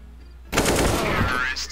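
Rapid burst of AK rifle fire in the Counter-Strike video game, a loud, dense automatic volley that starts abruptly after a short quiet moment and continues to the end.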